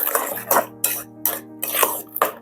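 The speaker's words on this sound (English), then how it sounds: "Mix it all in." Banana loaf batter being mixed in a bowl, with a series of about six rhythmic scraping, clattering strokes of a utensil against the bowl, close and fairly loud.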